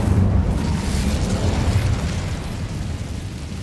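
In the game Hogwarts Legacy, an Incendio fire spell erupts in a loud, rumbling burst of flame that fades gradually over a few seconds.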